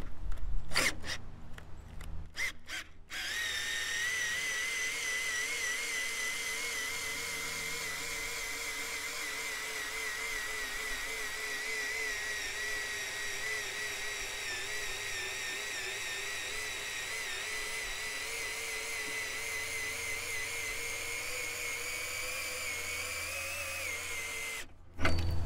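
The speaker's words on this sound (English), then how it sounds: "I just use a cordless drill." A cordless drill turning a crank on a stone saw table whirs steadily for over twenty seconds at a constant pitch, starting and stopping with a few brief clicks at either end.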